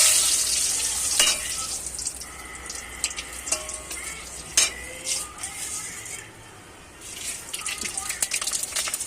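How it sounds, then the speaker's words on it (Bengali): Dried red chilies and bay leaves sizzling in hot oil as a tempering for Malabar spinach, a bright close crackle with stirring clatters and splashes that eases off in the middle, then picks up again. "আমি এখন এই পুঁই শাকে শুকনো লঙ্কা আর তেজপাতা আর শুকনো লঙ্কা, এই ফোড়ন,"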